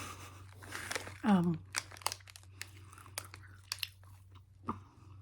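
Someone chews a sour sugar-coated candy rope similar to Nerds Rope close to the microphone, with soft wet smacks, crinkles and clicks scattered irregularly over a quiet hum, and one brief vocal sound.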